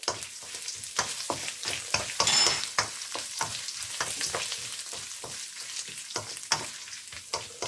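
Ginger paste fries in a pan with a soft, steady sizzle over low heat, broken up by repeated scraping and stirring strokes, heard close and alone.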